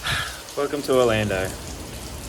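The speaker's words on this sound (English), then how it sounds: "Bucketing down rain" Heavy rain pours down in Orlando at 5 a.m., a steady broadband wash running through the whole moment while someone speaks a short greeting over it.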